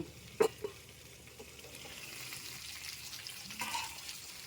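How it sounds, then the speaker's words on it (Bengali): Ridge gourd lightly frying in a pan, a faint low sizzle with a couple of sharp clatters near the start and a soft lid or utensil clink later, quiet and unvoiced throughout. "ঝিঙেটাও কিন্তু আমার হালকা ভাজা ভাজা হয়ে গেছে"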